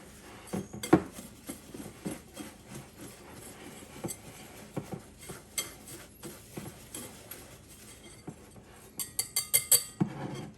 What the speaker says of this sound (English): Then we're going to take a whisk and whisk all this together.